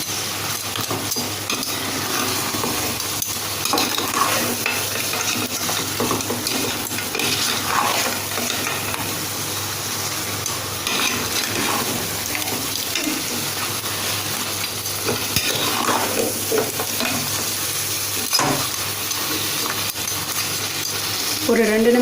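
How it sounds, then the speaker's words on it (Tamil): Crab biryani ingredients being sautéed and stirred in a pan over a simmering flame, a steady sizzle with scraping and clinks of a spoon against metal running throughout. "ஒரு 2 நிமிஷம் இதை வந்து சிம்ல வச்சு இதை வந்து வதக்கிடுங்க."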